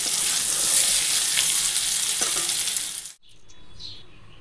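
Potatoes frying in hot oil with whole cumin seeds give a steady, loud sizzle for about three seconds, then it cuts off abruptly and a quieter sizzle with faint clinks follows.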